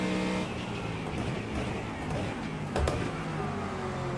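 GT3 race car engine in the iRacing sim, a moderately quiet steady engine drone with a brief louder burst near the end, faint talk mixed underneath.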